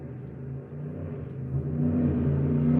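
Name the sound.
car engine revving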